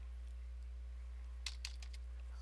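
Soft keystrokes on a computer keyboard, a few scattered taps followed by a quick cluster of clicks, faint and close against a steady low electrical hum.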